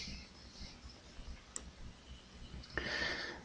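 A single faint computer mouse click while listing an item for sale on eBay, a short sharp tick in an otherwise quiet room.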